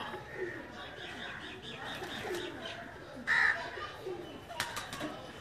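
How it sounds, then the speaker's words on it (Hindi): Lakha pigeons, a prized male among them, coo softly in a pigeon loft, low murmuring calls under a steady background with a brief brighter chirp midway. "ये नायाब कबूतर हैं जी।"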